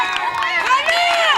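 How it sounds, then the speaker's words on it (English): A youth baseball crowd cheers and shouts for a player at a Scripps Majors World Series game, a loud, steady mix of high children's voices and whoops lasting throughout. "Hear them cheering for you, Connor?"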